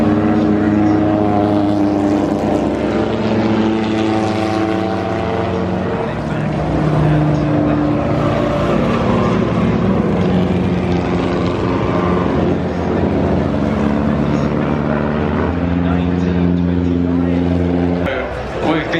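Vintage racing cars, including the Vauxhall Brooklands Special, roar down the Lavant straight at Goodwood Revival, a steady multi-engine drone with shifting pitch that runs the whole time under continuous race commentary.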